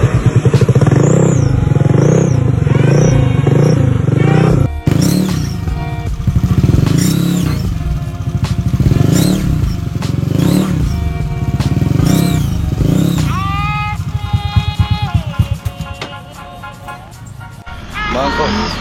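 Scooter-style motorcycle (Nmax, Aerox, PCX class) with an upgraded racing CVT and double clutch lining, revving repeatedly in rhythmic rising bursts, then pulling away and accelerating nearby, with people talking over it.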